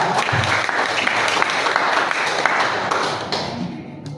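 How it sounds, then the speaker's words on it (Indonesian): Warm audience applause at a seminar presentation runs continuously at full strength, many hands clapping together, then starts to thin out near the end. "Sekali lagi beri tepuk tangan yang meriah kepada mereka."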